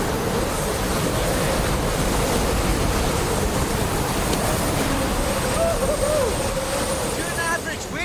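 Rough, roaring ocean noise from a storm at sea at night surrounds a fishing boat, a constant heavy wash of waves and wind with faint tonal sounds near the end.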